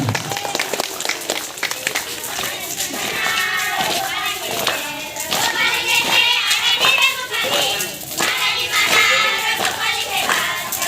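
Children at a Scout camp clap their hands in quick, uneven bursts, fairly close and loud, under an adult's steady talking.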